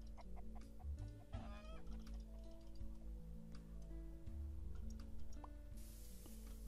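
Chickens cluck repeatedly in the Roblox game Skyblock, a steady run of short game-fowl calls over a looping tonal background music bed.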